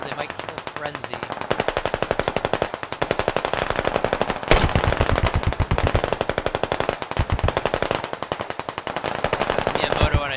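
A DShK heavy machine gun fires in the game Squad: long, rapid bursts of loud, close, booming shots in a steady hammering rhythm with a short break near the middle and the last shots sounding heavier.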